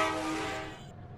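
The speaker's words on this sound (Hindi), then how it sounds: "हॉर्न तो मैंने मार दिया है" A train horn in the video game Indian Bike Driving 3D blares as a single sustained tonal blast that fades out toward the end, fairly faint and alone.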